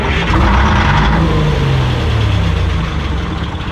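A truck engine fired up after a boom clutch and brake install, a loud, dense mechanical roar running steadily throughout with a slight rev early on.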